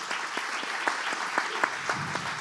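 Audience applause in a lecture hall after a talk on living longer and better, a steady wash of clapping with some individual claps standing out, moderately distant and fairly quiet.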